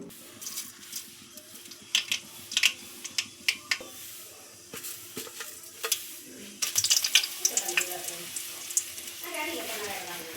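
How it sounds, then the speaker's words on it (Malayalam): Mustard seeds pop and crackle sharply in hot oil, scattered bursts at first, then a denser sizzling splutter. "ഇനി നമുക്ക് കടുക് പൊട്ടിച്ച് ഒന്ന് സെറ്റാക്കി എടുക്കണം"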